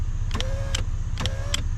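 A car power window runs in two short bursts, each a whirring motor with a rising whine, a click at start and stop, over a low idling background.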